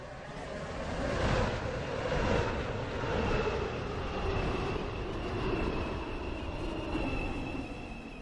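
Metro train in the Roblox game SCR rumbling at a station platform with a steady, broad rolling roar and faint high whine, continuous and moderately loud throughout with no speech.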